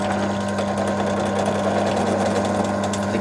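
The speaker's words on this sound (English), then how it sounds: "We'll drill the other side." Drilling on a Warco lathe compound slide, a steady mechanical whir with a strong low hum running evenly and continuously, close and moderately loud, with no talk.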